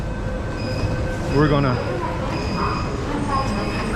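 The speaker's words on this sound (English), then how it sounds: "But this is where this train ends." An underground metro train in India rumbles at its terminal station with a steady low roar and a brief rising metallic squeal of wheels, while someone speaks over the noise.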